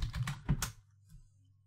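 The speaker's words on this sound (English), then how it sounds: "So if I type in crouch" A few quick, close keystrokes on a computer keyboard while a search is entered, followed by a single faint tap and quiet.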